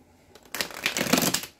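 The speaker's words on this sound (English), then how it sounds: "Just gonna draw a few cards." Rider-Waite tarot cards being shuffled and drawn, a quick close riffle of crisp papery flutters lasting just over a second, with no voice over it.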